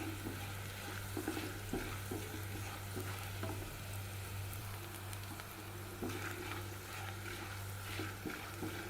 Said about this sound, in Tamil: அதுக்காக தாங்க எண்ணெயில் நல்லா வறுத்து எடுக்கிறேன்